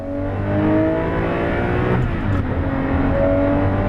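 A race car engine revs hard on a track, pulling toward about 7,500 rpm at high speed: a loud, continuous, harsh drone whose harmonics rise and shift as the revs climb, with no voices.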